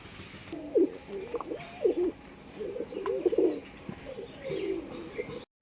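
A pair of young racing pigeons coo in repeated low, throaty bursts about once a second, close and fairly clear over a faint background hiss.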